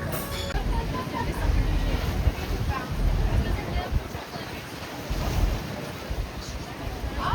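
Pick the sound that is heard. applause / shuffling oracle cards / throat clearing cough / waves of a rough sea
waves of a rough sea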